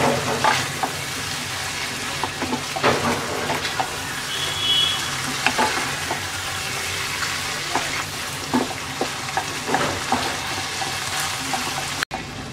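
Green chillies and pointed gourd frying in a pan, a continuous sizzle broken by repeated sharp scrapes and stirring clatters, close and moderately loud.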